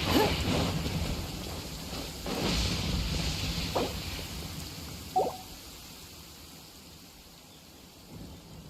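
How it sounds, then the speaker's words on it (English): Steady rain hisses throughout, with low rumbles of thunder rolling in the background and a few brief sharper knocks, in the video game Genshin Impact. "It's raining."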